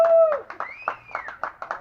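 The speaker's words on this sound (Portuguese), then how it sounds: "Ah, mas merece aplauso mesmo" A few people clapping outdoors at a campsite in Itu, slow irregular claps spaced about a quarter second apart, fairly close, following a short whistle-like tone and faint voices in the background.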